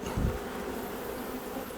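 Honey bees buzz around an open beehive at Wood Lake while honey-filled comb is lifted from the frames. A continuous soft drone hums steadily, faint and close, with no voices.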